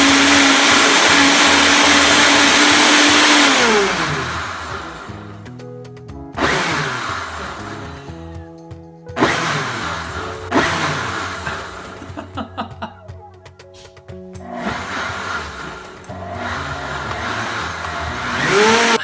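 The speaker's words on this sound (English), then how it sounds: "Add 2 cups of warm water and press the auto clean button." A Breville Boss blender motor whirs steadily on its auto clean cycle with warm water, then stops and restarts in several bursts, with spinning, sloshing pulses and brief pauses between runs.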